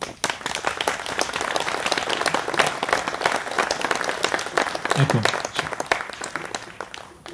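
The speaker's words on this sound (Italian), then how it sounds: "Un applauso." Audience at a Vox Italia conference in Missagliа applauds in a dense, steady burst of clapping that lasts several seconds, with a voice briefly heard over it.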